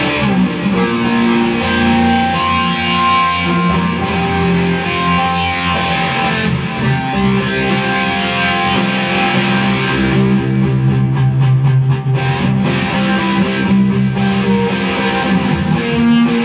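An electric guitar runs through a hair-metal pedalboard set for a chorus-like distortion, giving loud, sustained, swirling overdriven chords and notes that play without pause.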